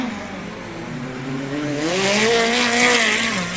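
A USAC midget race car on a qualifying lap at Ventura Raceway, its engine snarling and rising in pitch as it accelerates closer and louder, with a tire hiss building toward the end.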